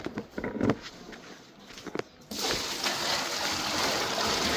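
Water poured from a hose or container into a pig's water bowl in a homestead barn, a few splashes and shuffling at first, then a steady rushing pour filling the bowl, close and continuous.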